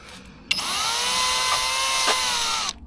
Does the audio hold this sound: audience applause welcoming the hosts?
no